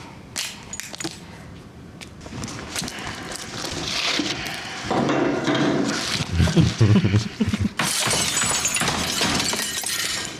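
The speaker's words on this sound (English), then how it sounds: "Did you have to break the glass?" Glass shatters and breaks amid a noisy horror-drama scene with walkers, a burst of crashing, splintering debris standing out over a busy background of bangs and movement, with no talk.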